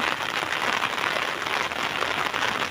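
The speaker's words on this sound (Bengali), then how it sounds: "বৃষ্টি হইতেছে আবার" Steady rain falling outdoors in a rural village where people are hauling current nets for fish, a dense continuous hiss of drops on surfaces throughout, close and even with no talk.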